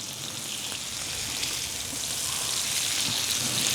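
Fish sizzles as it fries in a nonstick tawa, with a steady, soft, hissing crackle that continues evenly throughout, with no talking.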